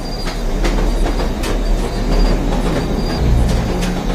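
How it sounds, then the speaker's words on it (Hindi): A train rolls out of a station, its wheels clacking in a loud continuous rumble with faint squeals on the rails, heard close and alone. "ही ट्रेन भी चल पड़ी।"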